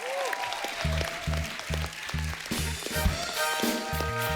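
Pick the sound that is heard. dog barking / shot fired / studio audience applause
studio audience applause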